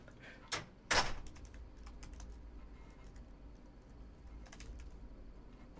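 Hex values are typed on a computer keyboard, a couple of sharp key clacks near the start followed by faint, sparse tapping over quiet room noise, close and without talk.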